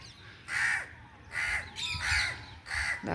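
Crows caw outdoors in a garden, four loud harsh calls spaced about half a second apart, fairly close and with no talk.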